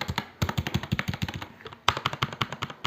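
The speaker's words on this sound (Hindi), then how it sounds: "while typing the key sound is good," A HyperX Alloy Elite gaming keyboard clacks under quick typing, a close, crisp rapid run of mechanical key strikes with one brief pause before the bursts resume.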